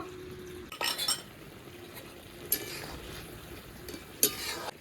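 A fish and eggplant curry finished with cumin powder is stirred in a metal pot, with a few sharp clinks and scrapes of the spoon against the rim over a low, quiet background.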